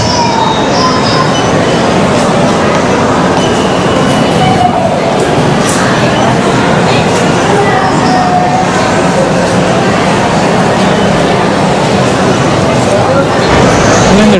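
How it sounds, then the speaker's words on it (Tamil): A hill railway train in Penang rumbles and clatters steadily along the rail, with faint wheel squeals and a busy mix of background noise throughout. "அது மூலமாக ட்ரெயின் மேலே போகிறாங்க."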